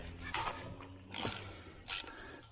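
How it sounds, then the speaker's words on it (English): Tiny ratchet with a 6mm socket loosening the sprocket bolts on a Sur-Ron X electric bike, three short bursts of close metallic clicking separated by pauses. "I've got a 6mm in this tiny ratchet. Hopefully I can undo these pretty easily."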